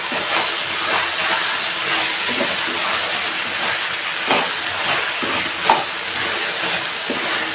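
Chicken chilli sizzling and frying in a pan while being stirred with chili sauce, a steady broadband hiss with soft scraping stir strokes throughout, close and moderately loud.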